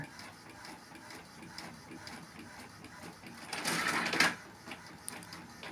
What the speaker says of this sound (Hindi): तो उसके पीछे साइड में प्रिंट हो गया होगा और लगता है तीन पेज और बचा है